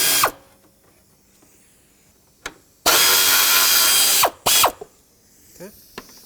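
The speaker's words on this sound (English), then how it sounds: "10mm socket. Let's remove this bolt here." Ratchet wrench with a 10mm socket loosening a bolt while removing the cooling fans on a 2003-2007 Nissan Murano, heard as two long bursts of loud, close ratcheting plus a few brief clicks between quieter pauses.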